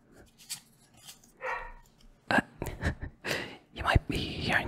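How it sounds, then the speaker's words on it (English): A puppy gives a few short, fairly faint barks in the background while a person whispers nearby. "You might be hearing my puppy bark."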